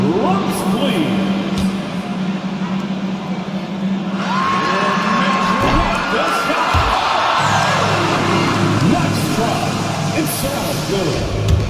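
Arena crowd in the NBA 2K25 basketball video game cheers and whoops steadily at a fan half-court shot event, with a commentator's voice over the noise.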